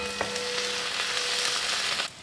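Steady, close sizzling of spices and ginger tempering in hot oil for mustard greens saag, a continuous bright crackle that cuts off near the end.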